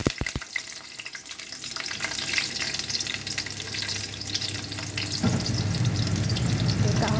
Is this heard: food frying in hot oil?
yes